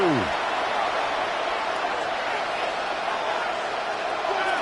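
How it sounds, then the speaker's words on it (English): Stadium crowd noise from an EA Sports American football game between the Cardinals and Bengals, a steady broad roar that stays loud and even throughout. "this crowd into it now"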